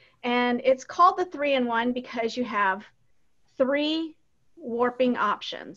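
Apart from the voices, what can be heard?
noisy pet cat meowing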